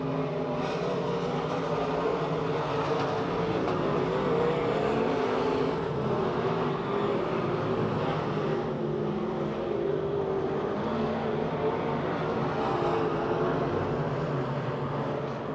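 Race cars roaring around Pennsylvania Motor Speedway near Pittsburgh toward the checkered flag, a steady loud engine drone with a slowly rising and falling pitch and no pauses throughout.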